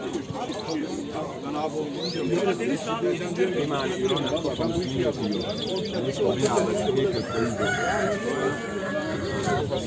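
A busy crowd of chickens clucking and a rooster crowing at a poultry and songbird market in Edirnekapı, Istanbul, with people talking nearby and steady background bustle throughout.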